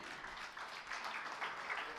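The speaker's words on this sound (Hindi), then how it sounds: "तालियां लगातार बजती रहें" An award ceremony audience claps continuously for a bravery award recipient, a faint, steady wash of applause heard from a distance.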